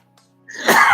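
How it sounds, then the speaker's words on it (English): A single sharp human sneeze, close and loud, follows a short quiet intake of breath. "Oh, I've got the sneezes."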